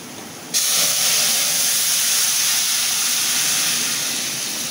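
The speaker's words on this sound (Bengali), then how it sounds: "এখন আমি তেলের উপরে দিয়ে দেবো ডালটা।" Lentils (dal) hit hot oil with fried onion, garlic and green chili, bursting into a loud, sudden sizzle that holds steady and slowly fades over a few seconds.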